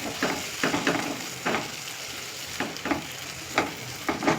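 Cooked-down tomatoes frying in a pan for hotel-style chicken curry, a close sizzle broken by regular scraping strokes of a spoon stirring the paste, about one stroke every half second.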